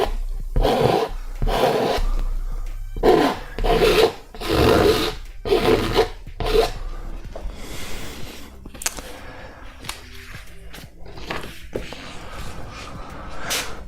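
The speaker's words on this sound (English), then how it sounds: "it's still fresh, so it still scratches off pretty easily." Fresh wet paint scratched off a canvas in rough, rasping strokes, close and fairly loud in repeated bursts over the first several seconds, then thinning to softer intermittent scraping and rubbing.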